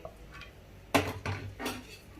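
A few clanking metal thuds as dough is scraped and set into a metal bowl, close by, with quiet room sound between.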